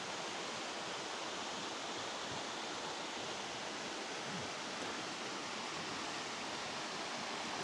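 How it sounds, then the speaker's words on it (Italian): The Stiffe waterfall near the caves in Abruzzo roars as a constant, dense broadband rush of falling water, steady and enveloping with no voices. "Finalmente vediamo la cascata. Signori, la cascata di Stiffe."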